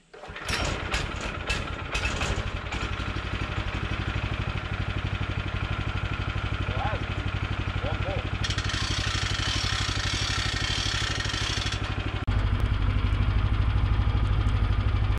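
A gas engine on a band sawmill starts and runs with a steady, loud mechanical drone, rising in intensity partway through and getting louder near the end.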